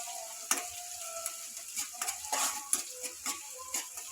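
Onions sautéing in a pan, a faint low sizzle with intermittent scrapes and taps from a spoon stirring, close and quiet, no voices.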